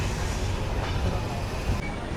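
Steady rumbling roar of the Sabari Express running near Chillakallu station, heard continuously from on board, with no clear talk.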